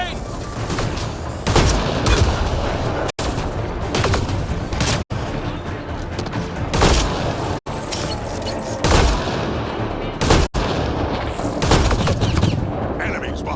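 Grenade blasts and gunfire in Mass Effect Andromeda combat: continuous dense shooting with repeated booming bursts every couple of seconds, loud and close throughout, with a voice shouting amid the noise.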